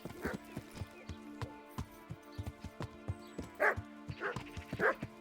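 A dog barks repeatedly in the video game Kingdom Come Deliverance, with short irregular woofs over a steady background tone and a few rhythmic clopping sounds.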